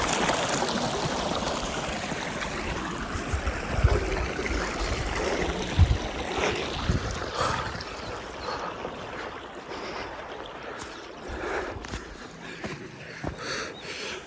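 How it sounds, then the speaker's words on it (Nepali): Stream water rushes steadily into a high mountain lake on the Pachpokhari trek, one of several small inlets feeding the pond; a continuous close splashing wash with some wind, no speech. "यस्तो 2-4 ठाउँबाट पानी आएको छ सबै।"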